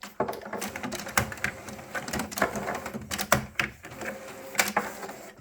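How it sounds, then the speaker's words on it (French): An HP inkjet printer with original cartridges restarts, its print head and feed mechanism clattering and clicking in rapid irregular bursts, close and fairly loud. "pour montrer que du coup l'imprimante repart si on remet des cartouches valides"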